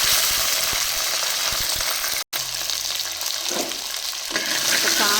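Onions tipped into a pan already holding curry leaves and green chillies for a village dried-fish curry, a loud bubbling sizzle broken by a sudden brief cut, then renewed frying with stirring clatter.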